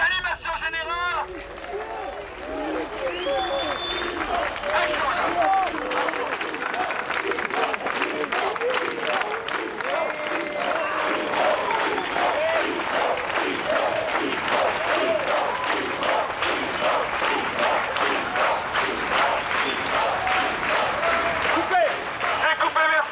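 A large crowd on a French film set in 1994 breaks into sustained, dense clapping that swells and holds steady for over twenty seconds, mixed with crowd voices and shouts.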